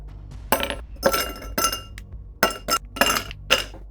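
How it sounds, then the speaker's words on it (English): Glass clinks and taps in a mixing glass while a drink is stirred and built, a series of sharp, close, bright strikes in uneven bursts with short pauses, no talking. "I'm gonna be mixing it in a mixing glass."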